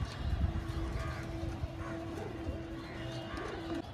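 Pigeons coo softly at a bird dealer's shop, their low calls rising and falling over a steady faint hum and background clutter, with no one speaking.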